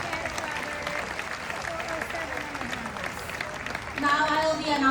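An audience at an aquatheater event aboard the cruise ship Star of the Seas applauds a new Pinnacle Club member, with steady, moderately loud clapping and crowd murmur, and a voice over a speaker system cutting in near the end.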